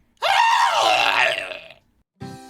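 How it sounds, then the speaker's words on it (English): A goat lets out one loud, drawn-out scream that wavers in pitch for over a second and then cuts off, followed after a short silence by a brief harsh burst. "The goat was disintegrated into nothing with one final scream."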